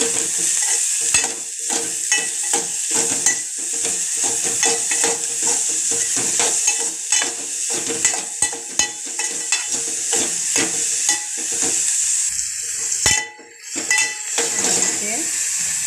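Shredded cabbage sambharo being stirred with salt in a pan, busy scraping and clinking of a spoon against metal with a soft sizzle underneath, continuous and close.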